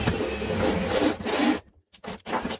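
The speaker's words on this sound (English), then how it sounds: "I'm gonna drill like a half inch hole." A pyramid step bit drills a 12 mm hole in the body of a VW Bug, a steady grinding rasp that stops and returns in short bursts.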